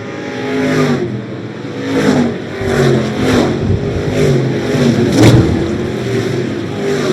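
Race cars lapping Siskiyou Golden Speedway, a dirt-track oval, with engines roaring and revving steadily as several cars sweep past one after another, loud and close with rising and fading passes.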